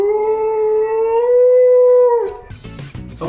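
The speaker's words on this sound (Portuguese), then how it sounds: "Alguns Golden uivam com determinados sons" A Golden Retriever lets out one long, steady howl, loud and close, holding its pitch for about two seconds before breaking off into a short burst of other noise.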